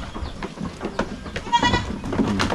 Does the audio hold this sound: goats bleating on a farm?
yes